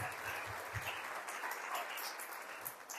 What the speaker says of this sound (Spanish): Démosle un fuerte aplauso a Jesús palabra